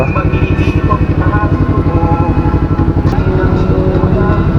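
A motorcycle fitted with a Yoshimura Alpha carbon full-system exhaust idles close and loud with a rapid, even pulsing burble, and a voice is heard faintly over it.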